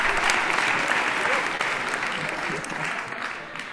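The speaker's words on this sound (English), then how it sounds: "let's give her a little clapping" Live audience clapping at an acoustic folk music livestream, a sustained round of applause from a modest crowd that gradually thins and fades toward the end.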